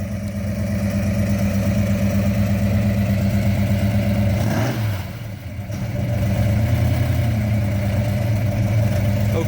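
A 1968 Hemi Charger muscle car's engine runs steadily with a deep, throbbing, loud rumble close by, dipping briefly midway before resuming at full strength, with no talking.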